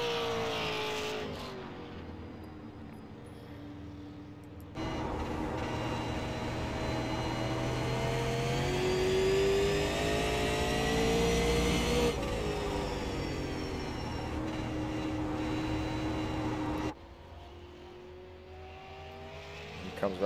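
A race car engine screams through a qualifying time lap at the USA Super 50, loud and continuous with rising and falling pitch as it passes, over a steady track roar for about twenty seconds.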